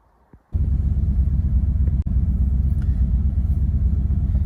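A Triumph Stag car drives along, its engine rumbling in a loud, steady low drone that starts abruptly after a brief quiet moment and continues with a short dip midway.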